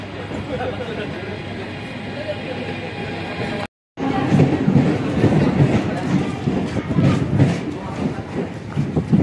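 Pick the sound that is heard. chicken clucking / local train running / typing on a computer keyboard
local train running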